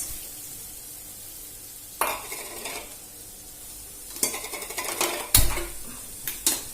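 Diced onions going into a pan with garlic for pav bhaji: a quiet background sizzle broken by clattering pan and utensil knocks and several bursts of stirring and scraping, close by.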